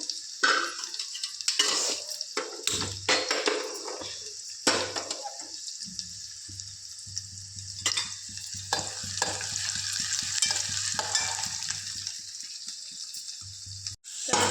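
Onions fry in a kadhai for a potato dish, a steady sizzle running throughout, broken by intermittent scraping and stirring clatter and a low hum; no talking.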